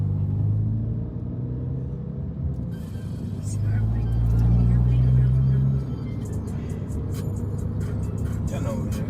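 Low exhaust rumble from an Audi A3 8Y after a muffler delete, heard from inside the car on an Atlanta drive, steady and droning with a louder swell in the middle while people talk over it.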